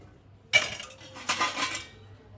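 Utensils being washed, with a few close metallic clinks and clatters of dishes in two short bursts against an otherwise quiet background.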